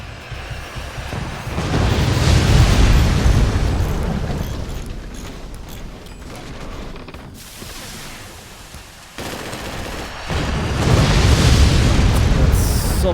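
Long wooden rockets explode in the Forts strategy game, a loud sustained barrage of booming blasts swelling in two heavy bursts with a dip between them.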